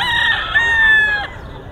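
A mature rooster at a Bocaue, Bulacan pet market gives one loud, close crow lasting about a second, its drawn-out call ending abruptly over a low background hum.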